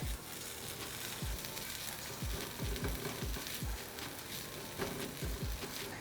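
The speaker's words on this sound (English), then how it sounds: "what we're trying to do here is just to get a little bit of caramelization on the meat" Vegan burger meat browning and caramelizing in a hot pan, a constant close sizzle crackling throughout, with repeated low thuds and scrapes from the spatula and no talking.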